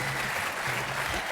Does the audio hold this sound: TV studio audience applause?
yes